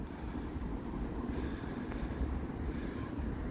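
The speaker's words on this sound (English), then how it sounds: "I see a train coming down here." A train rolls toward a station platform on a busy freight line, a steady, broad rumble that holds at an even loudness throughout, with no voices over it.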